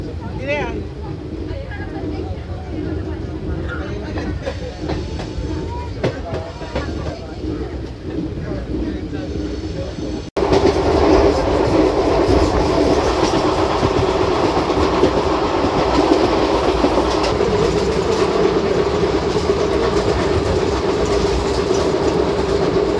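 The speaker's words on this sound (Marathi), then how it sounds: "गाडी आता सातारा रेल्वे स्टेशनवरून डिपार्चर होत आहे." The Koyna Express pulls out of Satara railway station, a quieter interior rumble with occasional voices giving way midway to louder, steady rolling and clickety-clack of wheels as the train gathers speed.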